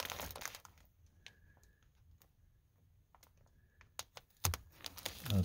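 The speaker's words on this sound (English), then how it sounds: "Right now I'm going to take a pair of scissors. We're going to get this cut out." Quiet, scattered snips and crisp clicks of scissors cutting through a lion's mane mushroom grow bag, with some rustling and a louder crunch near the end.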